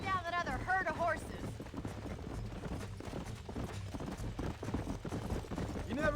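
Horse hooves clip-clopping in Red Dead Redemption as a rider goes after a herd of horses, a steady rhythmic patter under game music and a short burst of voice at the start.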